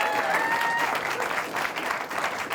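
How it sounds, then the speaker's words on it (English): A comedy show audience claps and cheers loudly and steadily for a group of student comedians, a dense, continuous wash of applause from start to finish. "Applause for the disciples."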